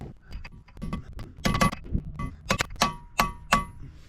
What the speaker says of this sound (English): I'm going to punch this lip in so it kind of locks into that T hole